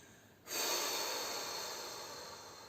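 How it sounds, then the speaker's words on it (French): A single long, steady breath pushed out to empty the lungs during a relaxation exercise, close and fairly loud, beginning abruptly and slowly fading over a couple of seconds. "Commencez par vider les poumons."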